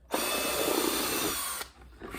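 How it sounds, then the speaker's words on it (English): A power drill whirs loudly and steadily for over a second, close by, then stops abruptly, leaving quiet room noise. "we're going to drill two more holes right here"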